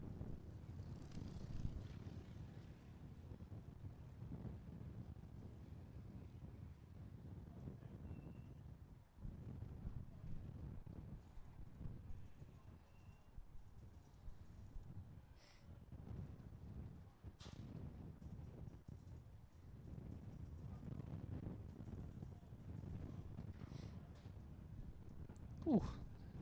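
Gusty wind roars against the microphone at a kart raceway, a broad low rumble that swells and fades over time with a few sharp buffeting thumps and faint distant engine noise.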